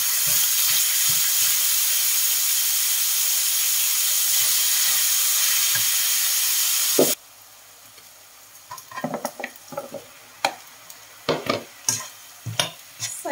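Onion and tomato hit a hot pan with a loud, steady sizzling hiss for several seconds, then the frying drops away to quieter stirring scrapes and clatters close by.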